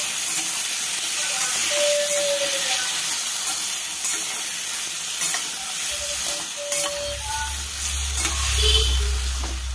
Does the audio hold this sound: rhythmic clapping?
no